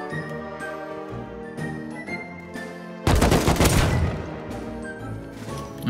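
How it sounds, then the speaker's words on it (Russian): Gunfire in a Russian-language multiplayer survival game: a dense, loud burst of rapid shots erupts midway over a background of game music and chimes, then fades back to the music. "По мне кто-то стрелял справа,"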